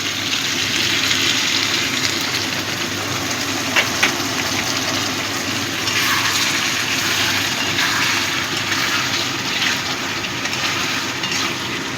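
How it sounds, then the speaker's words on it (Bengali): Hot water hits an aloo potol curry in a pan, setting off a loud, continuous rushing hiss and bubbling roar that holds steady for several seconds, close up with no talking. "একটু গরম জল দিয়ে দেবো।"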